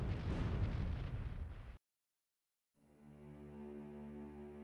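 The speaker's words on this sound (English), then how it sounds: "depth charges spread out around the submerged boats and the lethal explosions that could burst the hull began" Depth charges explode around submerged U-boats: a heavy, rumbling blast roars for nearly two seconds, cuts to silence, then gives way to a low, droning hum.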